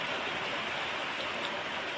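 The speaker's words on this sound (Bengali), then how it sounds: "আর মেঘাচ্ছন্ন আকাশ আর বৃষ্টি হচ্ছে।" Rain falling under a dark, cloudy sky in Pirojpur with a light breeze, a dense, even hiss of steady rainfall throughout, moderately quiet and with no voices.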